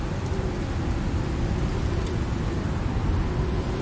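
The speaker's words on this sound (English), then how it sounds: "My god, this is quite the storm." Loud, steady rainstorm roars in the survival video game Icarus, with dense rainfall and deep low rumble filling the scene evenly throughout, no voices over it.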